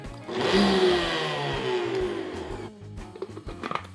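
A kitchen blender pulsing keto breadcrumbs, its motor whirring up loudly, holding for a couple of seconds, then cutting out into short choppy bursts and rattles.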